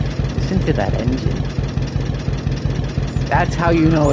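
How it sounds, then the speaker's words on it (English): A classic tractor engine idles in Farming Simulator 22, thumping in a steady low rhythmic chug as voices talk over it. "That's how you know it's a classic tractor"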